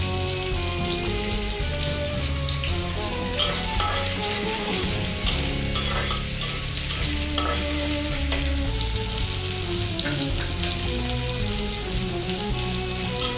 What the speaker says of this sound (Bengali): পেঁয়াজটা ভাজা হয়ে গেছে